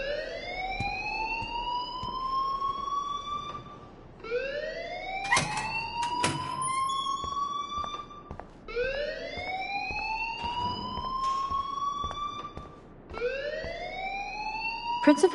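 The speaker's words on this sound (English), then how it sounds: "please turn off that alarm since that's your job" Alarm ringing in the video game Life is Strange: a loud, repeating electronic siren that sweeps upward in pitch, four cycles in a row, each about four seconds long, with some faint thumps in the background.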